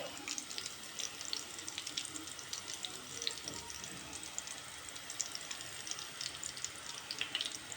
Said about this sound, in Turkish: cız cız cız cız pişiyorlar